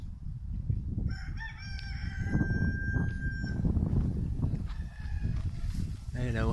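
A rooster crows loudly several times on a farm in Misserghin, Oran, Algeria, over a low rumble of wind and background noise, with ducks, chickens and other birds and a voice faint in the mix.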